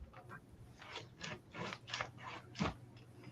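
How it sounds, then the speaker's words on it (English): A zipper on the cover of a vinyl album is zipped up and down, making faint, raspy metallic strokes repeated in a quick, uneven rhythm with no talking. "Okay, this zipper zips up and down"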